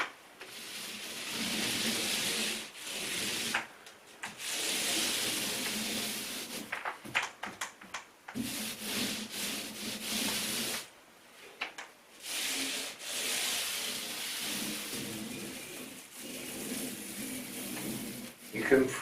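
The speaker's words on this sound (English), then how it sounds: "I'll just go over it very lightly with a kind of almost dry roller, just to give it a little bit of a smoother finish." A nearly dry paint roller rubs over an interior wall in repeated strokes, a close, soft, raspy swishing that rises and falls with each pass, separated by brief pauses.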